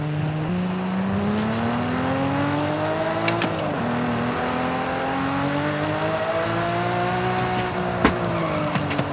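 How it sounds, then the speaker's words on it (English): Toyota Supra in a racing video game played on a sim wheel, its engine revving loud and continuous, pitch rising and falling through gear shifts, with brief tire squeals and bumps over a gravel road. "We are driving a Supra."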